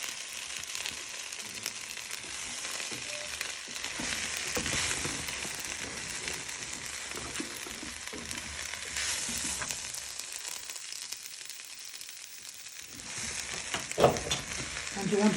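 Plain flour stirred into a sizzling pan for smoked haddock chowder: a soft, steady frying hiss with scraping stir strokes, moderately quiet and close, briefly louder near the end.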